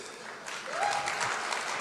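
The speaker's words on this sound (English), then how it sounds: "Please give a round of applause to our minister." Audience applause at a talk event honoring a minister, a dense burst of clapping that swells and holds, fairly loud and close with no talk over it.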